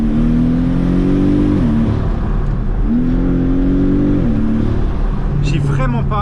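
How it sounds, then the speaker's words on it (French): The 2-litre flat-four of a Porsche 718 Cayman revs up twice in loud rising sweeps from the cabin, each dropping back with a gear change, while someone talks over the steady engine drone. "C'est marrant parce que la sonorité à l'échappement, j'ai pas l'impression d'avoir une Porsche."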